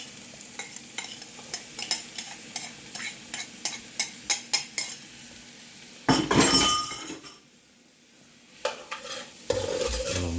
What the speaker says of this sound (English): let it saute for a minute